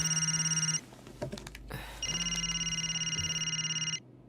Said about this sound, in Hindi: फोन उठाना यार।